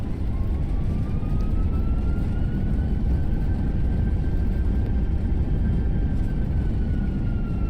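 Roar of Airbus A320-232 engines in reverse thrust during the landing rollout, a steady, loud, dense rumble heard from inside the airliner, with a faint rising whine laid over it and no pauses.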